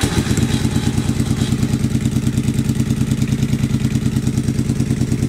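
A Yamaha XV750 motorcycle engine fires up and runs with a loud, steady, rapid throbbing beat, close and alone with no talk over it.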